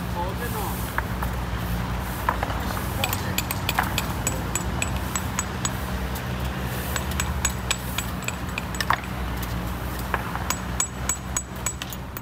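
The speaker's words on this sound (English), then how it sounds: "On a bed of sand and fine pebbles, they hammer them one by one." Workers hand-hammer Sampietrini, small Roman paving stones, one by one into a bed of sand and fine pebbles, giving sharp metallic taps in irregular clusters over a steady low street rumble.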